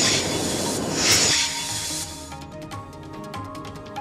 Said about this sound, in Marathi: मेट्रोची ट्रायल रन सुरू करण्यात आली आहे